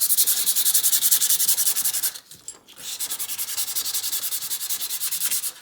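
Sandpaper rubs gunk off the blades of grass cutting shears in loud, quick, even back-and-forth strokes, broken by a short pause partway before the scrubbing resumes.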